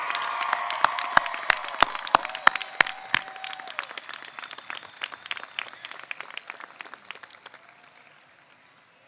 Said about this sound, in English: Let's give the class of 2018 a round of applause for what they've achieved.